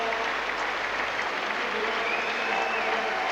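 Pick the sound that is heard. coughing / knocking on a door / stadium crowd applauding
stadium crowd applauding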